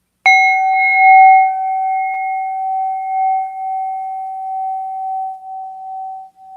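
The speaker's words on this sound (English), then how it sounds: "And, I'll bring my bell with me." A single struck meditation bell rings once near the start and sustains a clear, steady tone that slowly fades over several seconds, with no voices.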